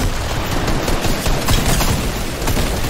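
Dense, continuous assault rifle gunfire in the Fortnite video game, a loud sustained volley of rapid shots with no pauses and no voices over it.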